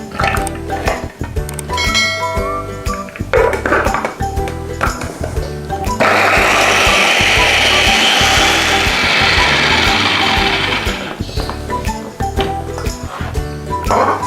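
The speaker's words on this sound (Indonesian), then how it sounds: "bawang merah, bawang putih, cabai keriting, dan rawit merah, saya haluskan di chopper" An electric chopper blends shallots, garlic, curly chili and red bird's eye chili, the motor whirring in short clattering pulses before a steady loud grinding run of several seconds, then more pulses, with no talking.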